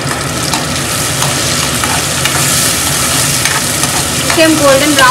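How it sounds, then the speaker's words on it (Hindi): Ingredients roast in a generous amount of hot ghee until golden brown, giving a steady, fairly loud sizzle with the scrape of a spoon stirring through the pan. "इसे हम गोल्डन ब्राउन होने तक भूनेंगे"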